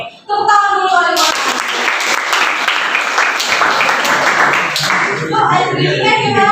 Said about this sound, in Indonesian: Tepuk tangan dulu kali.